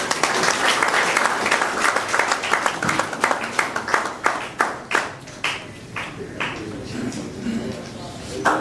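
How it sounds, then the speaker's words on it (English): Audience at a media awards ceremony breaks into loud, sustained applause, a dense clatter of many hands that thins into scattered individual claps as it fades. "A big applause,"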